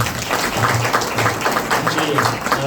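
An audience at a devotional bhajan gathering bursts into rhythmic clapping, a dense steady patter mixed with voices in the hall.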